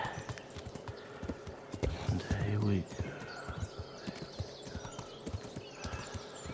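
Horse hooves clip-clop in a quick, steady rhythm throughout in the video game Kingdom Come: Deliverance, with a brief louder burst midway and a voice speaking briefly over them.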